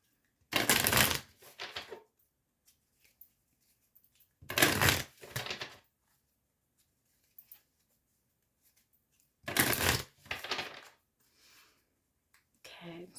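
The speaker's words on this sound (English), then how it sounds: "So I'm just going to shuffle this deck here." Tarot deck being shuffled by hand, three loud riffling bursts spaced a few seconds apart with quiet pauses between, close up and without speech.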